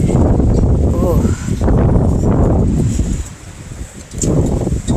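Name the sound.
strong wind during a windstorm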